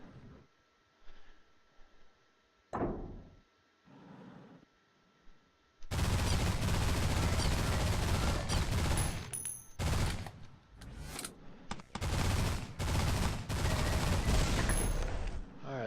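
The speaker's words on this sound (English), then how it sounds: "Because that's a plasma gun that he's using there." Plasma gun fire in the space shooter game Destination Sol comes as a dense, loud burst of rapid, noisy blasts with short gaps, after a quieter stretch of scattered game effects.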